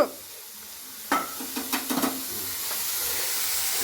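Small chickpeas roasting in oil in a pan, with a steady sizzling hiss and a short run of stirring scrapes in the middle, fairly quiet and close, with no talking.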